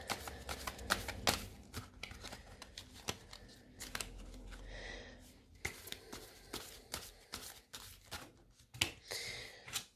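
Tarot cards are shuffled by hand in quick, soft riffling bursts and slaps, fairly quiet and close, with faint talk in the background.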